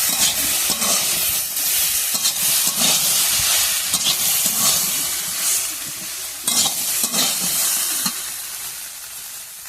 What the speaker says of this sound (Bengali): এবারে তেলের মতন হলুদ গুঁড়ো দিয়ে দেবো। ভালো করে নাড়াচাড়া করে নেবো।